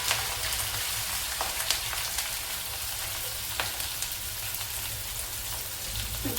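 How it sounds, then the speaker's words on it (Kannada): Onion sizzles in hot oil alongside green chillies in a North Karnataka-style junka. The crackle is steady and hissing, with scattered pops, and no voice is heard over it. "ಸ್ವಲ್ಪ ಹಾಗೆ ಫ್ರೈ ಮಾಡ್ಕೊಂಬಿಡೋಣ ಎಣ್ಣೆಯಲ್ಲಿ"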